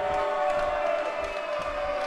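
Wrestling-event crowd cheering and clapping steadily, a dense continuous roar of voices with scattered claps, loud and close, with no clear talk over it.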